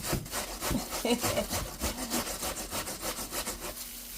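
Carrot rubbed against a grater by hand for bread batter, a steady rasping scrape repeating in quick strokes, close and fairly loud throughout, with no talking.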